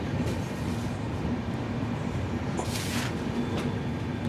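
16312 Sriganganagar Express arriving at Nagaur station, a continuous rumble of rolling railway carriages with brief metallic clatters and a short squeal partway through, heard close and steady.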